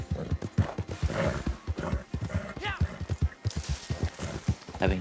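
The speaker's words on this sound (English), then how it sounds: "Well, I just drifted with my horse." A horse in Red Dead Redemption 2 clops along in steady rhythmic hoofbeats, with a neigh partway through, while people talk continuously over the game sound.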